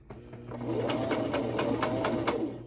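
A sewing machine runs close by while stitching in reverse, its needle pounding in a quick, even rhythm for a couple of seconds, with nobody speaking.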